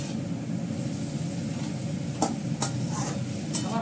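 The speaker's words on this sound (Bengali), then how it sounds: "একটু ভাজা করবো ডালের সঙ্গে খাওয়ার জন্য" Food fries in a home kitchen pan as a side for lentils: a constant low sizzle runs throughout, with a few sharp utensil clinks against the pan near the end.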